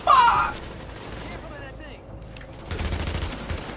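Gunfire in the video game The Division, a loud burst at the start, then quieter stretches and a renewed rattle of rapid shots near the end.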